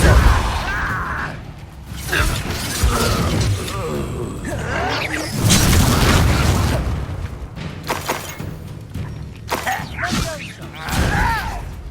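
Depulso spell cast during a Hogwarts Legacy battle, heavy whooshes, thumps and shattering impacts coming in waves, mixed with voices and game effects throughout.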